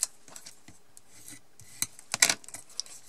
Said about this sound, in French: la première des choses, c'est de marquer les plis